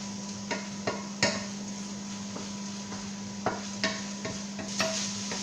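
A utensil stirs tuna cooking in a pan, giving scattered clinks and scrapes against the pan at an irregular pace over a steady low hum, with no talk.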